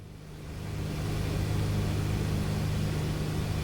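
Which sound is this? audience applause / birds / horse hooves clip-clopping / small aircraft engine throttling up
small aircraft engine throttling up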